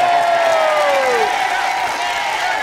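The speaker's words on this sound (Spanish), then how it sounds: "fuerte el aplauso para el señor Pierangelo" A live audience at a comedy show cheers and whoops loudly, with crowd noise filling the whole moment and a clear rising shout in the middle.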